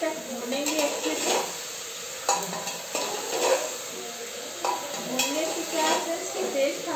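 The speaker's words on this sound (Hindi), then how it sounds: "कटहल को डाल के इसे हम 2 से 3 मिनट तक भूनेंगे अच्छे से" Jackfruit being sautéed in a pan, with soft sizzling broken by clinks and scrapes of a spoon stirring against the metal, close and fairly quiet.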